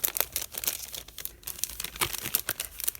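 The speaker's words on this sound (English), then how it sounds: "if I cut this butterfly out" Paper crinkling and snipping as scissors cut a paper butterfly out for a craft project, a steady run of close crisp rustles and small cuts with no talking.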